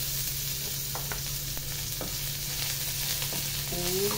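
Tomato sizzles in a small amount of hot vegetable oil while being sautéed for chicken tinola, a steady frying hiss with occasional spoon scrapes and stirring knocks, close up and without talk.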